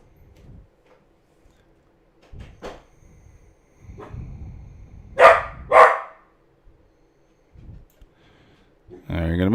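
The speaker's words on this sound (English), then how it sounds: "Sorry about the dog. He's barking at something." A dog barks twice in quick succession indoors, loud and close, with low murmuring and scattered faint knocks around it.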